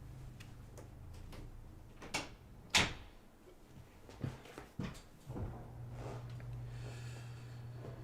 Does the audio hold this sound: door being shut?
yes